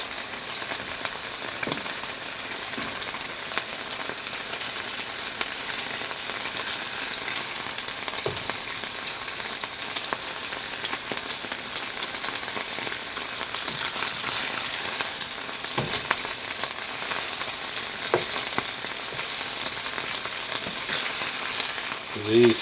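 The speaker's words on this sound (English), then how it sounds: "they are sounding like fajitas on a hot plate right now" Food sizzles and crackles steadily in a hot pan, a constant bright hiss with occasional pops, no voices.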